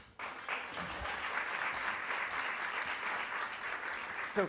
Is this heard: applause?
yes